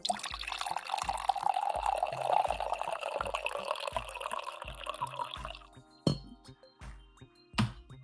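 Coffee poured from a pot into a cup, a gurgling liquid stream for several seconds under a low rhythmic thump, ending in a few sharp clinks and knocks.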